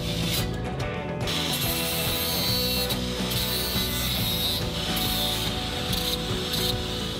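A 6-foot wooden upright cut in half for a vacuum table, a steady sustained cutting noise with a tonal hum running throughout and a few brief breaks, close and loud.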